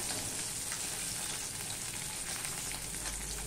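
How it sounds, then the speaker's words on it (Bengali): Bata fish fry in hot oil, giving a soft, even, continuous sizzle close by with no talking. "বাটা মাছ বেশি কড়া করে ভাজলে ভালো লাগে না"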